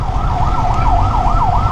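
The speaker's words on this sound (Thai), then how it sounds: "รถเสียงแหวอีกแล้ววอวอวอวอวอวอ" Rapid yelping emergency vehicle siren on a Pattaya street, cycling quickly up and down, loud and near over steady traffic rumble.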